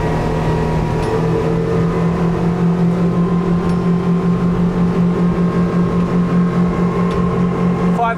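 A Parker Monaco 110 motorboat engine drones steadily at close range at around 29 knots, a loud continuous hum with a faint rise in pitch as it revs.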